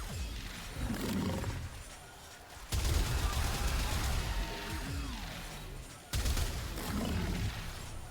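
Gunfire in the video game Warframe, a weapon firing continuously until its magazine is fully discharged, a dense roaring burst of shots in two long stretches separated by a brief lull.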